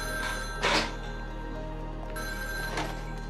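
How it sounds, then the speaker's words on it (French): A telephone rings indoors, two bursts of bright, buzzing bell tone separated by a pause, moderately loud over a steady low hum, with no talking. "Et puis son téléphone sonne."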